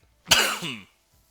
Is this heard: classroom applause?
no